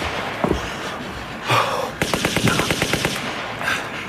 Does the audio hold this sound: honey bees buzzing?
no